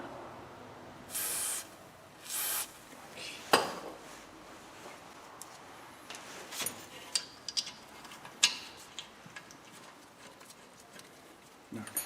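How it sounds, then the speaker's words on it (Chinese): Rust remover is sprayed onto a bolt during a rear brake pad change on a Mercedes GLE350, heard as two short hissing bursts followed by a few faint metallic clicks and clinks. "咱把螺丝杆上面也喷点除锈剂"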